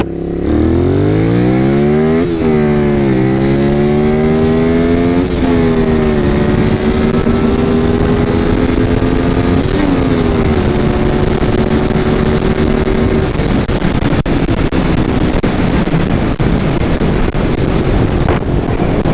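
A Honda VTR 250 motorcycle engine revs up close and loud, climbing through several gears with rising pitch that drops at each shift, then settles into a strong steady drone.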